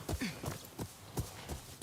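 Horse hooves clip-clopping in the samurai video game Ghost of Yotei, a steady walking rhythm of distinct near hoofbeats at moderate volume with no talk over them.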